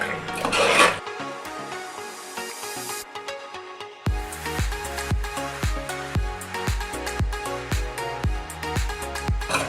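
Mutton gravy with cumin powder being stirred in a pan: a quiet scrape at first, then a loud, close run of regular rhythmic scraping and rubbing strokes, with no talking.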